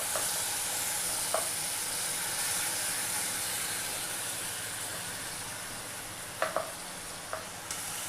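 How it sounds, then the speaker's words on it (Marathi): Raw ground masala with turmeric roasting in hot oil in a pan, a steady close sizzle and hiss throughout with a few brief stirring scrapes, no talking. "आता आपल्याला हा कच्चा जो मसाला आपण केला हा भाजायचा आहे आपल्याला"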